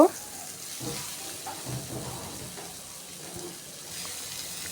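Potatoes seasoned with turmeric and salt are stirred and fried in a pan, a soft continuous sizzle with occasional scraping stir sounds, close and moderate in level.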